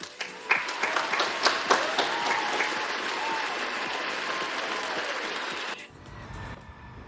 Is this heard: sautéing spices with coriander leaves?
no